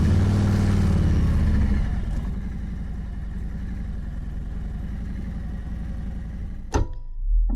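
A big bagger motorcycle engine runs steadily at low speed as the bike creeps forward on the clutch friction zone, a louder rumble at first settling into an even putter, with a brief sharp knock near the end.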